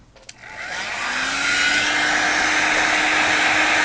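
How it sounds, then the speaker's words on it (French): A hair dryer on its low setting clicks on and spins up into a steady, loud whooshing blow of air that holds constant at close range. "j'utilise mon sèche-cheveux et je le mets sur 1"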